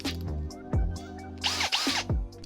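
A power drill fitted with a 1-inch spade bit bores out a door's deadbolt hole, the motor whining and bogging in uneven bursts with grinding bit noise and a few clunks, close up and fairly loud.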